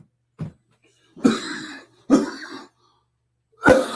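A person coughs and clears their throat close up in a quiet room. There is one short cough, then three heavier, rasping bursts separated by silences.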